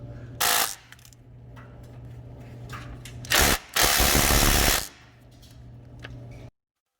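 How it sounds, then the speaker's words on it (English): A ratchet working on the starter bolts of a Chevy S10 pickup, with a brief burst of rapid clicking, then a quieter stretch, then longer loud ratcheting runs close by before it stops. "all we need to do is just loosen up the starter and just let it drop so we can get enough room"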